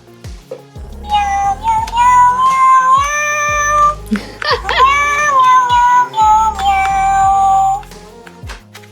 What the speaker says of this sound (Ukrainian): Мяу, по різному мявкає.